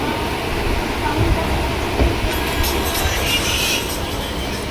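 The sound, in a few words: running train, Kerala to Delhi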